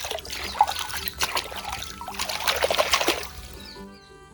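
Clean water pours and trickles steadily while dirty animal toys and toy cars are washed, a close, continuous splashing stream that thins out and stops near the end.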